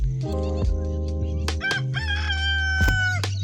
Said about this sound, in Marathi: ए कोंबड्या, कोंबड्या, रुसलाय वाटतं